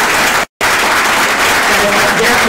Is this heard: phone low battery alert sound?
no